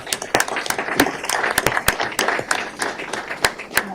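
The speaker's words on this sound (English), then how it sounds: "Let's give Dennis a round of applause." Scattered applause from attendees at a county board of commissioners meeting, a modest group clapping with distinct sharp individual claps standing out over a lighter patter.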